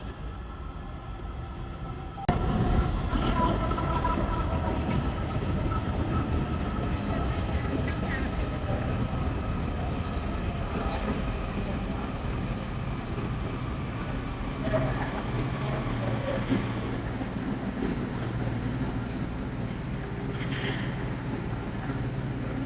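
A Washington DC subway train pulling in and idling at a station, a loud sustained rumble with an abrupt onset, then steady mechanical hum and faint rattles continuing throughout.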